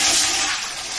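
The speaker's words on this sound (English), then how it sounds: "Add the water," Water pours steadily into a thick-bottomed cooker while making sago papad, a continuous bright rushing splash that stays loud for the whole second with no talking.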